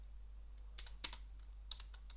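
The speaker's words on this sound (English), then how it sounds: "I can start editing this file by pressing I key on the keyboard and then type whatever text or code I want" Keys on a computer keyboard tap out text in a Linux terminal, a few sparse, quiet clicks in small clusters over a steady low hum.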